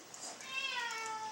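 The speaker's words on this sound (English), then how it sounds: "Is that the kitty cat?" A cat meows in a drawn-out, rising call heard fairly close in a quiet home, a single vocalization lasting about a second with no talk over it.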